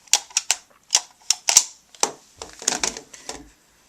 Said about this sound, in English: And to unlock, you just press that lever.